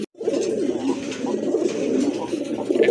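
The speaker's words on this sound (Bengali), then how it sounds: "হ্যাঁ অনেক স্বাস্থ্যবান কবুতর, দুইটাই বিগ সাইজের কবুতর মাশাআল্লাহ" Two big, healthy pigeons coo in a steady, close run of low throaty calls, continuous and fairly loud with no talking over them.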